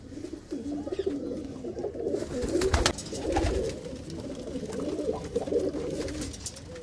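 Pigeons coo continuously on a rooftop loft, a low, throaty, overlapping murmur with a few soft bumps and flutters mixed in.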